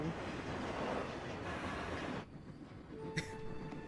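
A cartoon train departs with a rumbling rush of wheels on rails that fades away after about two seconds, followed by quieter tonal sounds and a brief sharp chime.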